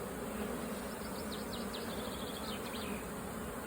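Honey bees fanning at the hive entrance with the Nasonov gland exposed, a steady, faint buzzing drone with individual bees whining past close by.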